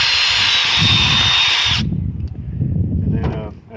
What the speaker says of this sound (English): and just ream it out and get all the extra shavings out.